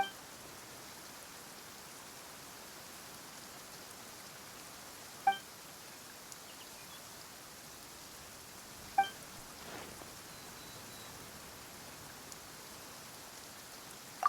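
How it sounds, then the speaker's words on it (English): Video game rain falls softly and steadily as a faint, even hiss, with a few brief clicks now and then and no speech. "Why is it raining?"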